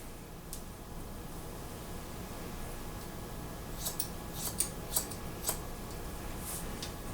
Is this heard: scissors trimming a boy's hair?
yes